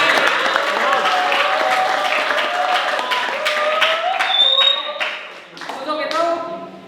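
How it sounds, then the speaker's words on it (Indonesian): Applause from a group of training participants at a teacher workshop session, dense clapping with scattered sharp claps and voices talking over it, steady throughout and thinning near the end. "Tepuk tangan untuk Anda semuanya"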